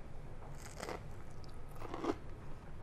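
Someone bites into crunchy Detroit-style pizza crust with crispy cheese edges baked in a cast iron pan, producing two soft, close crunching bites over faint background noise.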